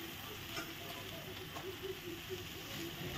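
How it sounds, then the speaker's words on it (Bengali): Masala paste with salt and Kashmiri chili powder fries quietly in oil for potol curry, giving a soft, steady sizzle with faint stirring scrapes throughout. "এখন মশলাটা ভালো করে কষিয়ে নেব।"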